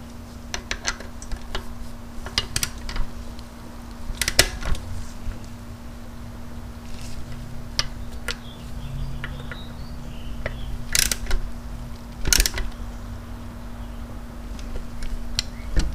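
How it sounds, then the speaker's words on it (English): A ratchet snugs up the oil cooler bolts on a 2006 Harley-Davidson Ultra Classic motorcycle, giving irregular bursts of close, sharp clicking over a steady low hum, with no talking. "We get the ratchet, tighten these up."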